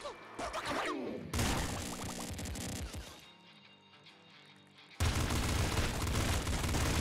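Shotgun blasts in the video game Nuclear Throne (Ultra Mod) with a golden starting weapon, a dense barrage of loud gunfire and crashing impacts that briefly drops away before erupting again, with game music underneath.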